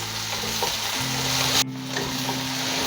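Chopped onion and green chili frying for masala oats, a steady loud sizzle throughout with a faint low hum underneath and a brief dip partway before the hiss resumes.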